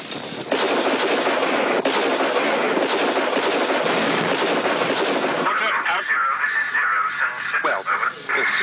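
Loud, sustained battlefield gunfire during an enemy attack, dense crackling volleys with rumbling blasts, continuous and close, with radio-like chatter and voices mixed in.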